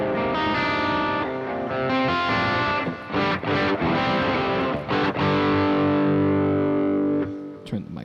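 Distorted electric guitar run through a decomp effect, loud and fuzzy chords and sustained notes ringing with heavy saturation, with a short break partway and a sharp pick attack at the end.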